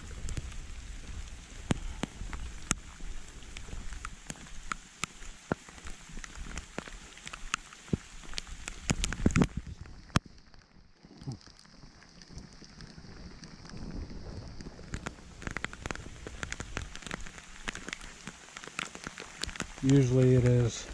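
Rain pours onto a spring-fed pond in the woods, a dense steady patter of drops hitting water with scattered sharper splashes, continuous and fairly close, easing briefly midway before returning; a voice cuts in right at the end.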